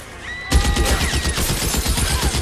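Rapid gunfire from a sniper shootout in the L.A. Noire video game, a steady run of loud, evenly spaced shots that bursts in suddenly over a low tonal hum and keeps going.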